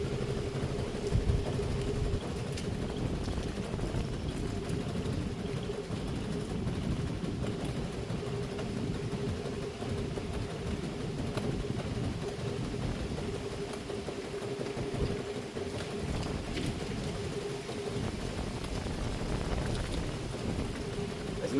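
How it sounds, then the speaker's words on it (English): A vehicle engine idles low and smooth at close range, a steady rumble with a constant hum holding evenly for the whole stretch and no revving. "Idle's low, but it's smooth."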